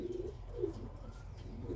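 Pigeon cooing in soft low repeated phrases, about three coos spread across the moment, moderately near under steady background noise, with no talking.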